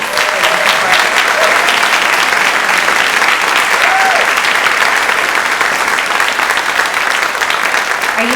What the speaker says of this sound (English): I want to give them a huge round of applause for their support.